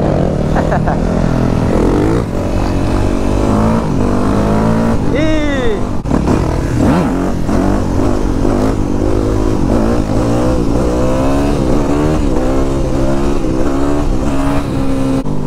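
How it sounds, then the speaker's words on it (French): Nitrous-equipped motorcycle revving hard, engine note climbing and falling in rapid sweeps with stuttering hiccups on acceleration, loud and close throughout. "quand j'accélère j'ai des petits des petits à coups comme ça"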